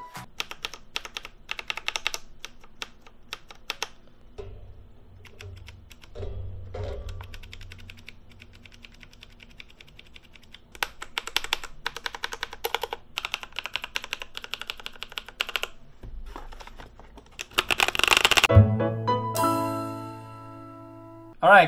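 Typing on a Rexus Legion mechanical keyboard with brown switches and a plastic build: rapid, continuous key clacks at close range, with a louder, busier burst near the end.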